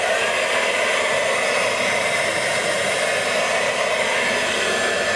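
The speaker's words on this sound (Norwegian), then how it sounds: "det er ikke hver dag man lager kalkun med hårføner." A hair dryer blows steadily at close range while it is used to cook a turkey, a loud, constant rushing hiss with no breaks and no voices.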